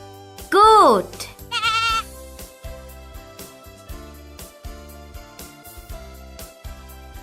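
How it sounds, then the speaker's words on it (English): Goat bleats twice, a wavering cry and then a shorter one, over a backing of rhythmic cartoon music in a children's animal-names lesson. "Goat."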